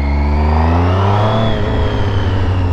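A motorcycle engine revving hard and pulling away on a wet road, loud and close, with a deep throbbing rise and fall in pitch and no talking.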